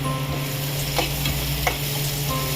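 Chopped onion dropped into hot oil already seasoned with asafoetida, sizzling steadily in a pan for a Malvani bitter gourd chutney, with a few soft stirring scrapes over the constant fry hiss.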